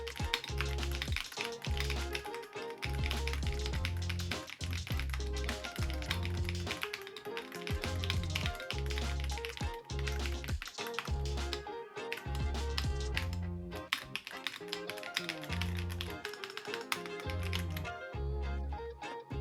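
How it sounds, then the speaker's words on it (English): Steady, rapid clacking of keys typed on a Redragon EISA K768 Pro mechanical keyboard, a dense run of clicks and thocks with brief pauses, close and fairly loud with no talking. "I love the way that this keyboard sounds."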